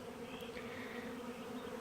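A honeybee swarm buzzing steadily, a dense droning hum of many bees close by at moderate volume, continuous with no voices.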